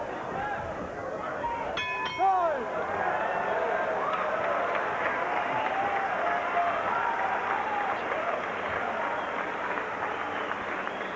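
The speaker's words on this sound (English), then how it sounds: "Crowd getting into it big as we close out round 4." At a boxing match between Harris and Quintero, a large crowd cheers and applauds as round 4 closes, with a sustained roar of voices and a brief whistle near the start.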